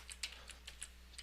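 Quick bursts of keystrokes on a computer keyboard, several sharp clicks spaced irregularly over about a second, faint against a steady low hum.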